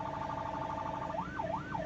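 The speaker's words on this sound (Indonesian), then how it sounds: "Mungkin ini aja untuk sirine dan rotator." An ambulance siren sounds close and loud, first a steady pulsing tone, then a rising and falling wail that sweeps up and down twice.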